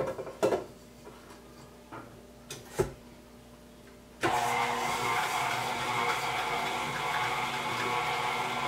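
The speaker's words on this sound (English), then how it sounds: "let's go ahead and add our first egg. Let's go ahead and mix that together." An egg is mixed into cheesecake batter: a few faint clicks and taps, then a steady whirring mixer motor starts abruptly and runs continuously at moderate volume.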